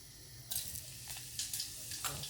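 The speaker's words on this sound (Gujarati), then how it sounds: "તો ચાલો મગને વઘારી નાખીએ જીરું નાખીને." Cumin seeds crackle and sizzle in hot oil while boiled mung beans are being tempered. The sound is faint, with short bursts of spitting over a soft steady hiss and no talking.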